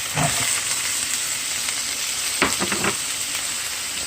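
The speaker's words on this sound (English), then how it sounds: "Saute. We'll throw in our onions." Onions sauté in a pot for a vegetarian squash soup, giving a steady close sizzle with a brief burst of stirring scrapes midway.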